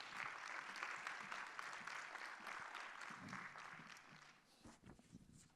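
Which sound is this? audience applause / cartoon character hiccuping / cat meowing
audience applause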